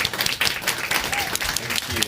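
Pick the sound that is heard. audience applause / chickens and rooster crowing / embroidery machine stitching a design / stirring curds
audience applause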